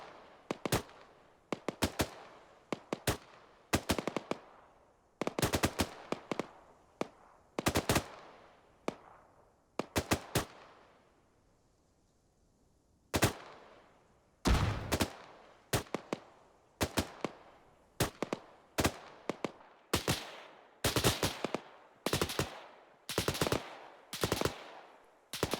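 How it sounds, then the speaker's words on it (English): Machine-gun suppressive fire in the military video game ArmA 3 rings out in repeated sharp bursts and single cracks with short pauses, loud and close with reverberant tails, over a section battle with no talk. "Delta Fire Team maintain suppressive fire on the enemy, switching fire as the assault goes in"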